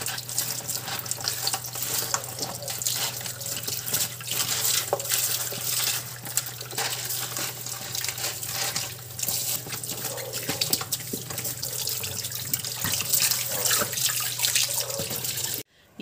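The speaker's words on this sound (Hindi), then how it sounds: "पहले मैं सब्ज़ियाँ धो के इनको सूखने के लिए रख देती हूँ" Tap water runs steadily into a kitchen sink as vegetables are rinsed, a continuous hissing splash at moderate level with occasional clinks and no talking.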